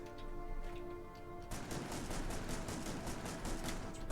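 Laser turrets in Factorio: Space Age fire in a quick, regular pulsing rhythm, faint and steady, starting partway in over a background hum.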